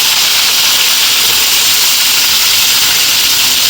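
Loud, continuous sizzling of pointed gourd and potato pieces frying in hot oil, a dense steady hiss filling the whole clip with no talking.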